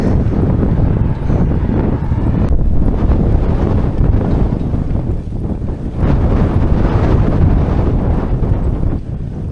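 Steady, heavy wind buffets the microphone, a dense low roar that barely lets up.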